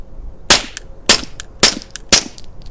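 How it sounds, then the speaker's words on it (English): Four quiet, sharp gunshots from a pistol fitted with an OSS RAD suppressor at an outdoor range, evenly spaced about half a second apart, each a brief crack with a short clattering action sound after it. "The gunshots themselves, holy crap, really quiet."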